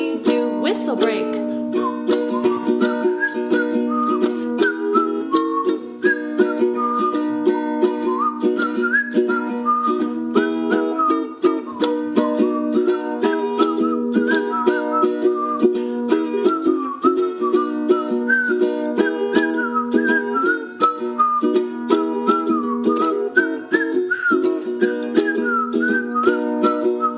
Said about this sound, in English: Whistle break.